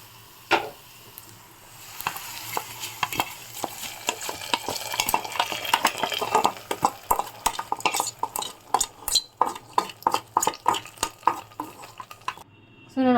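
A spoon stirs fried onion tempering into spinach sambar in a pot, a soft sizzle at first giving way to repeated close scraping and clinking strokes against metal, with no one talking.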